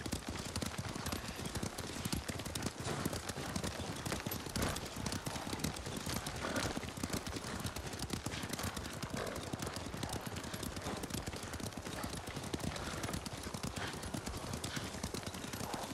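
A horse gallops in the Ghost of Tsushima video game, rapid continuous hoofbeats drumming steadily throughout at moderate volume, with faint game ambience underneath.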